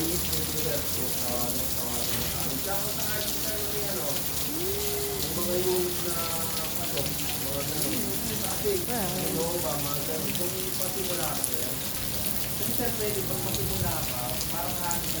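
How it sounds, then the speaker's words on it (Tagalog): Heavy rain pours in a steady, dense hiss over a fog-covered hillside with zero visibility, with people's voices talking faintly underneath throughout. "Lakas ng ulan."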